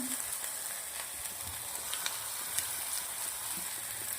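Green garlic sautés on low heat with green chilies and coriander, a soft even sizzle running throughout, with a few faint stirring ticks and no speech.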